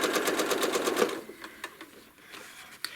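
A home sewing machine runs fast, stitching freehand feathers and ruler work on a quilt, giving a rapid even mechanical chatter for about a second before it slows to scattered, irregular clicks and taps.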